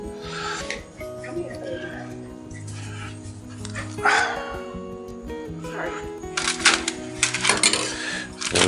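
A puppy barks in short, sharp yips and bursts close by, repeated irregularly over kitchen clatter and a steady background drone, with a louder flurry of barks near the end.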